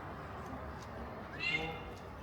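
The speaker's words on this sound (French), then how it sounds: "il y a un petit chat qui gueule à la fenêtre" A small cat yowls at an open window, a brief drawn-out meow rising midway over a constant background hum, heard at some distance and fairly faint.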